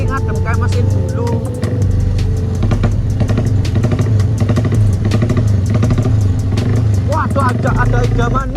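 A Honda CB motorcycle engine running hot on a ride near Baturraden, a loud continuous mid-pitched drone with rhythmic firing pulses and shifting revs, a rider talking over it now and then.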